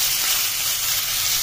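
Diced potatoes fry in a hot pan with turmeric and salt, giving a loud, continuous close sizzle and hiss with no voices.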